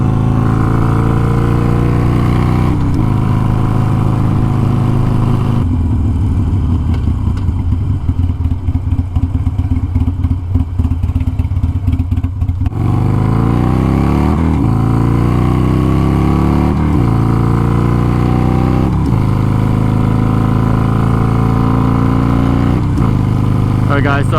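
A Harley-Davidson Sportster Iron 883 with an FP3 map and AutoTune setup drones steadily while being ridden, a loud low rumble that lasts throughout. There is a rougher, gritty stretch partway through, and wind roar can be heard along with the engine.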